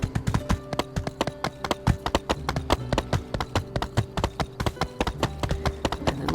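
Horse hooves clip-clop steadily in the video game My Time At Sandrock, a regular rhythmic trot of sharp, close hoof strikes with no voices over them.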